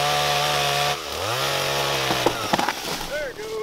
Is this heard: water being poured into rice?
no